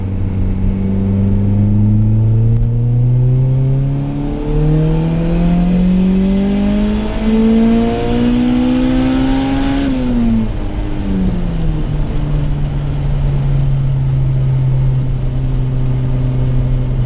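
A turbocharged Acura Integra GSR on low boost revs hard through the gears on the street, pitch climbing steadily, dropping at a shift, then rising again; loud, close, and continuous with no talking.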